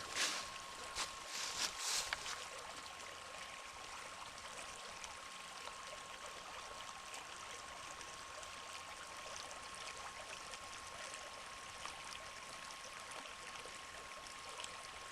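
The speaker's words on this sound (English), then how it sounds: "it is a nice little river here. Some running water." A small river near Grandfather Mountain flows steadily in a continuous, gentle rushing babble, with a few faint knocks near the start and no voices.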